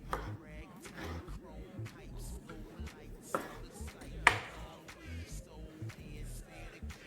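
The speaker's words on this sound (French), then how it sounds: "je vais couper mes crevettes en deux" A knife slices through shrimp in half on a cutting board in a home kitchen, a few close, soft cutting taps and one sharper knock against the board amid light handling noise.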